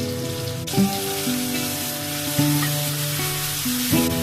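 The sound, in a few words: onions and cumin frying in ghee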